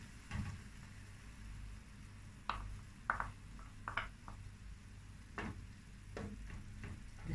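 Beaten eggs hit chopped chard in a hot pan, a soft continuous sizzle and frying hiss broken by scattered clicks and taps of a utensil, fairly faint and with no talk over it.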